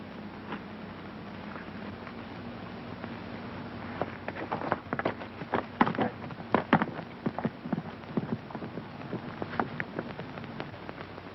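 Hooves clip-clop faintly and irregularly over a steady background hiss, growing busier and a bit louder in the middle before thinning out.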